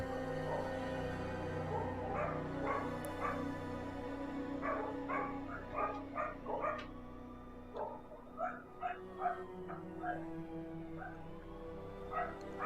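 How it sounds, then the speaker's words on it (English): Police dogs bark repeatedly at a distance over a constant droning background, the sharp barks coming in irregular clusters through the scene. "The police brought their dogs."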